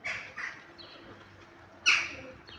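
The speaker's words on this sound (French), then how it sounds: "Lui, c'est le goéland." A gull calling near a river at dawn: a few short sharp cries, one louder and closer squawk in the middle, and a last brief call, with quiet gaps between.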